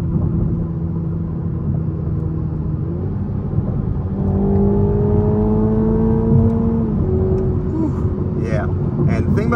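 A 2023 Toyota GR Supra 2.0T turbo four-cylinder accelerates from the cabin, a low engine drone climbing in pitch through rising tones, steady and loud, with brief sharp sounds near the end.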